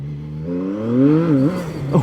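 A CFMoto 675NK naked motorcycle pulls away in first gear, its engine note climbing steadily and loudly close by, dipping briefly near the end as it winds up, with no talking.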